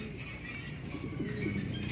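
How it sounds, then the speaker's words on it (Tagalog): Pigeons coo softly in a short, low, murmuring burst, faint and close, with a brief rising note near the end and no voices. "Ayan yung mga ibon natin."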